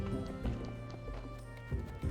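Horse hooves clip-clop in the video game Graveyard Keeper, a steady run of hoofbeats over a continuous musical game soundtrack, with a few stronger thuds near the end.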